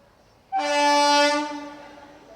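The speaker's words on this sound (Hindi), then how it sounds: "सामने से कोई तो ट्रेन आ रही है।" A train horn sounds as a train approaches on a curved track, one loud sustained blast starting abruptly and fading out over about a second and a half, with no voices.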